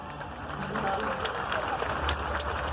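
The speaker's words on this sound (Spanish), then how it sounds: "fuertes palmas para ti" Audience clapping at a concert, a dense, steady spread of applause filling the moment with crowd noise underneath.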